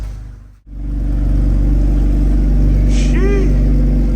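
A built VQ engine in an Infiniti G37S with Z1 test pipes and a broken Motordyne exhaust rumbles at idle, a loud, steady low drone up close after a brief dip, with a voice speaking over it.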